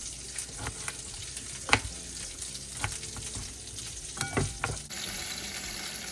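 Fish frying in a pan alongside ivy gourd makes a quiet, continuous sizzle, broken by light scraping and tapping knocks from a utensil, heard close and without voices.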